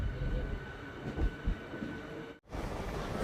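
Onboard a Hubballi–Arasikere MEMU train in motion, a continuous low rumble of wheels and carriage fills the space, broken by a few thumps and a sudden brief dropout before the noise resumes.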